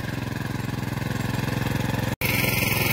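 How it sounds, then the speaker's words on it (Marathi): Tractor engine running steadily in a pomegranate orchard, a close, loud low throb with an even pulsing rhythm that continues throughout apart from one momentary cut. "त्या बघा त्या शेवटच्या वळीला चालू आहे ट्रॅक्टर."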